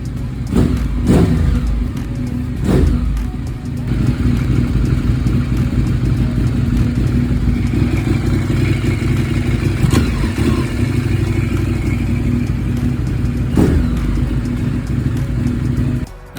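Ducati superbike engine idling close and loud during a coolant change, warm and running with a steady rumble, broken by several sharp throttle blips and revs.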